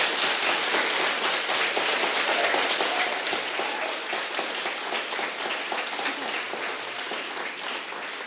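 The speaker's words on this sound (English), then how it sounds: "so a big applause for all of you" Audience applause at a startup demo day event: dense, steady clapping from a crowd continuing throughout, gradually easing slightly toward the end.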